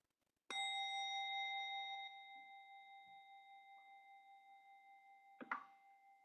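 A meditation bell is struck once and rings with a bright tone that slowly fades over several seconds. A few faint knocks follow, then a short rustling near the end.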